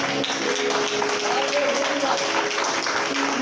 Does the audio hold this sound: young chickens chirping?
no